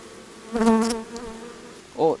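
Honeybees buzzing at an opened beehive in April, a close, wavering drone that swells in a short burst and then thins, with a second brief buzz after it.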